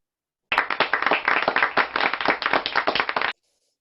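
One person claps hands repeatedly at a Toastmasters club's online Zoom meeting as a clap check, a quick, evenly paced run of about two dozen sharp, close claps lasting nearly three seconds, then abrupt silence.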